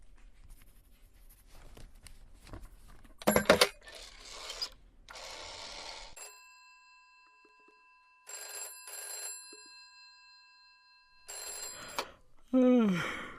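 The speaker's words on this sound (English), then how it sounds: "I just need to make one phone call and I'll be right out, okay?" A telephone rings during a phone call in the police-management game This is the Police, with bursts of electronic ringing tones separated by scratching and shuffling noises and quiet gaps.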